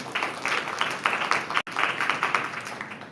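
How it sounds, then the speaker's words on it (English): Applause from an audience at a board of education meeting, honoring a staff member: steady clapping from many hands fills the room, with a very brief dip about halfway through before it resumes at similar strength. "If y'all would just give Nina a round of applause"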